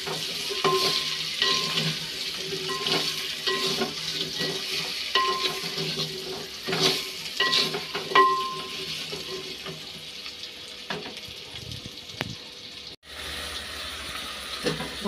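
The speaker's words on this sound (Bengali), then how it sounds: "ভাজা হয়ে গেছে কুমড়োটা।" Pumpkin pieces frying with turmeric and salt in a pan, a steady sizzle broken by repeated scraping strokes of a stirring spoon, close and moderately loud, with no one talking.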